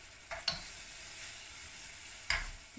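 Curry powder being stirred into a pan for a vegetarian meatball curry, a quiet continuous sizzle with two soft scraping stirs of a spoon, one early and one near the end.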